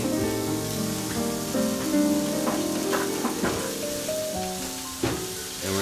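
Garlic sizzles in a few drops of oil in a pan for tilapia with garlic cream sauce, a steady soft crackle that runs throughout beneath a prominent tonal music bed.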